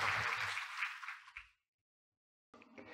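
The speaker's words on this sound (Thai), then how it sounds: "ขอเสียงปรบมือต้อนรับศาสตราจารย์เกียรติคุณดร. ยงยุทธยุทธวงศ์ครับ" An audience at a Thai genomics medicine seminar applauds to welcome a professor onto the stage, a burst of clapping that fades and stops, followed by silence and then a voice starting to speak.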